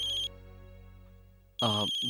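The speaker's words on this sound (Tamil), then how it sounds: "ஃபோன்." A phone ringtone rings twice in a Tamil TV serial scene, a bright electronic tone sounding briefly, pausing, then repeating loudly over a low background hum, with no talk.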